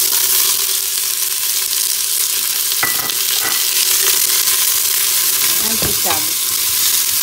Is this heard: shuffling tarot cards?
no